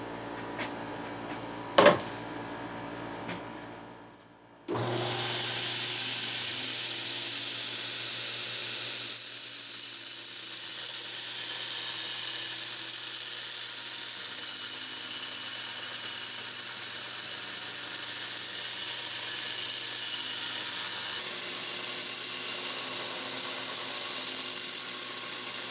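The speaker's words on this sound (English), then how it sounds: "get some grinding done" A belt grinder runs continuously while grinding bevels into a 5160 steel chopper knife blade, a steady loud hissing whine that starts after a brief clunk and carries on unbroken for about twenty seconds.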